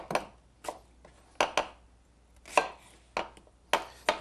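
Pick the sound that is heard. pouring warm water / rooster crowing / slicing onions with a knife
slicing onions with a knife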